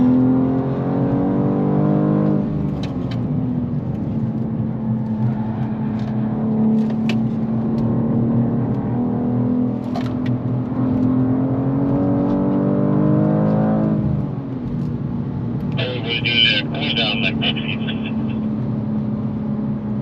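A 2023 BMW M2 G87 driving fast around a circuit, its engine droning loud and close from inside the cabin, with pitch rising through the gears and dipping at shifts, plus brief rattles and wind noise.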